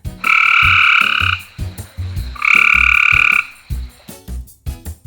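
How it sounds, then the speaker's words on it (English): A frog croaks loudly and close up in two long, buzzy trills, with lower croaks pulsing in between and after them. "F is for frog."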